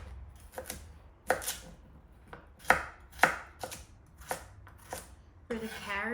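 Carrots being cut with a knife on a board, about ten crisp chops in uneven pairs and singles, close and distinct over quiet background, ending with a brief rustling handling sound.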